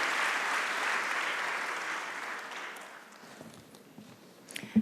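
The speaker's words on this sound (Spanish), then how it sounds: "para ellos, nuevamente, un fuerte voto de aplausos" Audience applause for the panelists at a governance and communication congress panel, a sustained broad wash of clapping that fades over the last seconds into scattered claps and shuffling.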